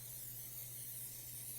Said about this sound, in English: I'm just gonna get a quick little spray as well with these